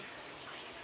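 Water pours steadily into a grinder jar holding chickpeas, garlic and coriander leaves for a spicy paste, a soft continuous splashing close by with no talk.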